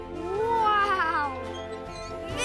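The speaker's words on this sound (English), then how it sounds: "cat got stuck in the tree again" A cartoon cat stuck in a tree meows loudly in a long, wavering cry with a second shorter meow at the end, close and clear with no talking.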